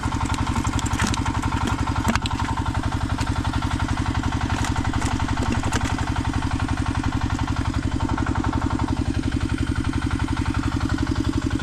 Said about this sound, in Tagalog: saglit pala kumandar yung makina natin